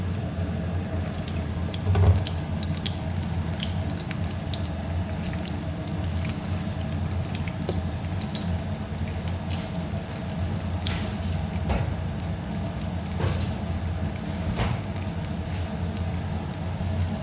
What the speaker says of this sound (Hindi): मैंने डाल दिया है वेजिटेबल घी, और अब मैं फ्राई करूँगी शामी कबाब,